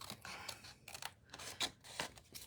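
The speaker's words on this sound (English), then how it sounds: "you do need to cut that score line away" Scissors snip through card to trim away a score line, making a series of sharp, close crisp cuts in an irregular rhythm, about six distinct snips over a quiet background with no speech.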